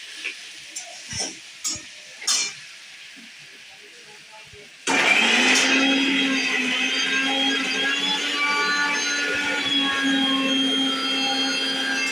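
A kitchen mixer grinder blends ginger, garlic and green chili into a paste, starting abruptly with a loud, steady whirring drone that runs to the end after some quieter kitchen clatter and clicks.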